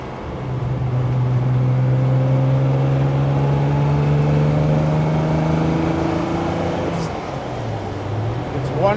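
A 1966 Maserati Mistral 4.0-liter coupe on the road, heard from the passenger seat: a steady, loud engine drone rises slowly in pitch, then drops briefly as it shifts and picks up again.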